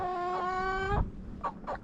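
A hen gives a long, drawn-out call, then a few short clucks follow close by.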